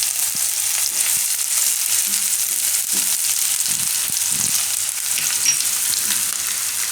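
Green garlic sizzling in hot frying oil as it is stirred, a dense continuous crackle close up with occasional spoon scrapes, no talking.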